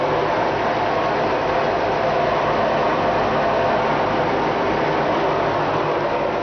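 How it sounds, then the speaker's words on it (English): Steady, loud mechanical drone with a rough, grinding growl running throughout, no pauses or talk, from a boat engine with a bad gimbal bearing churning under strain. "This engine's got a real bad growl and gimbal bearing."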